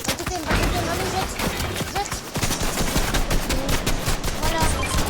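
Dense submachine gun fire in a video game battle royale match, with continuous rapid shots packed tightly together and loud throughout, with faint voices underneath.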